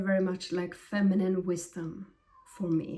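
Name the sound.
cat meowing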